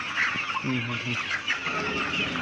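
Kaveri chickens at a poultry farm near Nashik, raised on feed, cluck in a continuous busy flock din, with a few short, louder calls standing out near the start.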